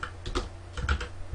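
A short burst of quick keyboard clicks, close and crisp, with a few keys pressed in rapid succession.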